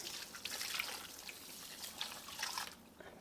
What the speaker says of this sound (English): Pour that over. It's about 2 cups.